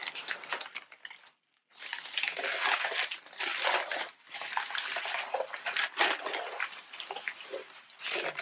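Paper packing from a GlobeIn artisan subscription box crumpled and crinkled by hand while an item is dug out, loud and close, continuous rustling with one brief pause near the start.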